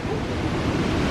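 Waterfall cascades in Mexico, a steady, dense rush of falling water close by, a continuous broadband roar with no pauses and no voices.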